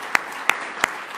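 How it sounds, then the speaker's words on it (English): At a peace prize ceremony, a quick round of applause comes through as four distinct, evenly spaced claps, crisp and fairly close, with a quiet pause between each. "So just a quick round of applause for everyone."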